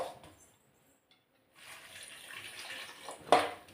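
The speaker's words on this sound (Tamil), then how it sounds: "இப்போ இதுக்கு வந்து தண்ணி ஊற்றிக்கிறேன்" Water is poured into a pan of brinjal rasam. After a quiet start, a steady, moderately loud splashing pour runs to the end, with a brief sharper splash near the finish.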